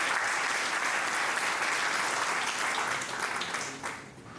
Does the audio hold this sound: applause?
yes